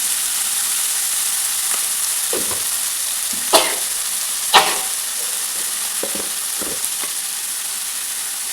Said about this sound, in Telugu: ఆనియన్స్ బాగా ఫ్రై అవ్వడానికి కొంచెం సాల్ట్ అలానే పసుపు యాడ్ చేస్తాను